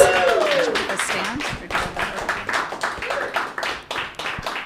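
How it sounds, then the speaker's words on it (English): Applause and clapping from a comedy club audience at a stand-up open mic, steady and fairly loud throughout, mixed with cheering voices and crowd chatter. "So let's give a big round of applause to Dante."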